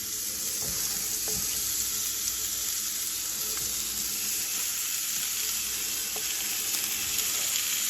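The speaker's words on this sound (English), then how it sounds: "I'll fry them in the cast iron skillet" Steady, loud sizzling of lamb patties frying in a hot cast iron skillet, a continuous hiss with occasional faint pops and clinks.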